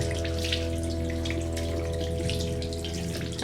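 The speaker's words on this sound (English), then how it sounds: "rinse it until it's squeaky clean" Running tap water pours steadily over a makeup brush being rinsed in a sink, a continuous close splashing wash with a faint underlying hum throughout.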